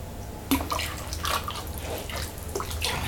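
Glaze poured out of a raw pottery piece gives a brief liquid splash and trickling, a few soft spills and drips over low background hum, fairly close and moderately quiet.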